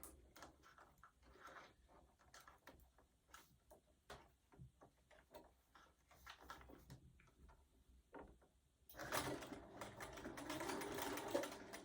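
A sewing machine stitching a mug rug seam at a quarter-inch seam allowance starts up near the end and runs in a steady, loud whir, after a stretch of soft ticks and handling clicks.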